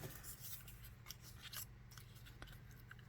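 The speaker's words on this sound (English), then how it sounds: "And snip it there." Scissors snip through music paper while trimming page tabs, a few quick close cuts in a quiet room with no talking.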